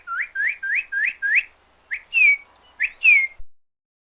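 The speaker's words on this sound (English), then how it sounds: "A bird goes." A bird gives a clear whistled call: five quick rising notes in even rhythm, then a pause and two pairs of short chirp-and-slur phrases, bright and close in otherwise quiet surroundings.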